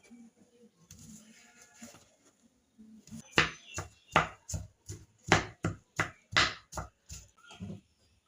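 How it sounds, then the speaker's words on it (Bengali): A knife cuts through an unpeeled apple on a board, with about a dozen crisp, separate chops in an uneven rhythm, close and fairly quiet. "তো প্রথমে আমি আপেলটাকে কেটে নেব।"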